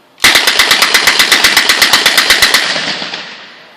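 Rapid string of loud, close rifle shots from semi-automatic Island X-16 rifles fired outdoors, about twenty evenly spaced cracks over three seconds, followed by a fading echoing tail.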